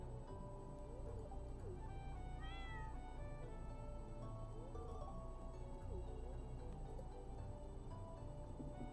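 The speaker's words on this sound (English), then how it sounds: "it's a black cat" A black cat in the Stardew Valley video game meows a few times in short rising calls, heard over steady game music and ambient ticking.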